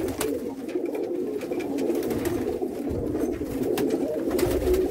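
Pigeons at a Jammu pigeon sale coo steadily and close by, overlapping low calls filling the scene with a constant murmur and no voices.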